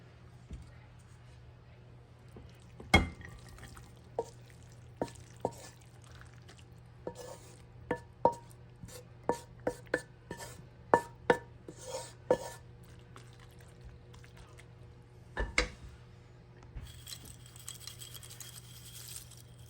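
Tuna chow mein casserole mixture being spooned into a casserole dish, with scattered light clinks and scrapes of utensil on dish, some sharp, over a steady low kitchen hum.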